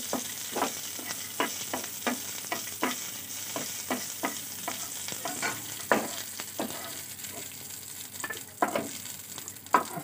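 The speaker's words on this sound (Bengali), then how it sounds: "একটু কাজু কিশমিশটা হালকা করে ভেজে নেব" Cashews and raisins frying lightly in oil in a pan, with a steady soft sizzle under repeated scraping stirs of a spatula, close and moderately loud, no talking.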